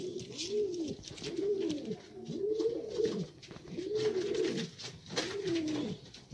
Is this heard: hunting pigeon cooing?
yes